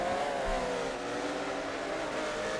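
Porsche GT3 race cars in a sim racing game at Virginia, engines droning steadily at high revs throughout, with a sustained whine and no talk over it.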